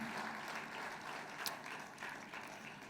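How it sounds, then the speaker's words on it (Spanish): A church congregation applauds in praise, with steady, moderately faint clapping from many hands filling the room for a few seconds. "Fuerte ese aplauso de alabanza al Señor"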